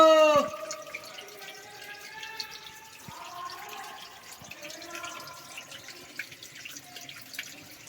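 A small stream in Sandhan Valley trickles and drips over rocks close by, soft and steady, with brief splashy gurgles and a louder burst at the very start.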